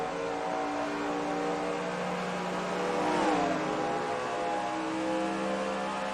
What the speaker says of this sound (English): And now they're downshifting